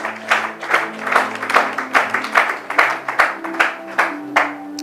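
A church congregation claps in steady, rhythmic unison, loud and close, with a faint voice underneath.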